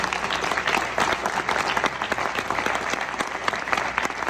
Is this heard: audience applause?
yes